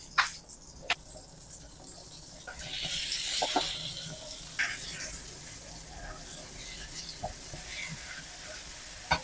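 Ground chicken with garlic and onion frying in butter in a pan for Filipino-style spaghetti, a steady close sizzle with occasional clinks and stirring scrapes throughout.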